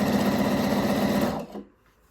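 A sewing machine stitching a mesh edge around the leg hole of pole shorts runs in a steady, loud, close mechanical whir for about a second and a half, then stops, leaving near silence.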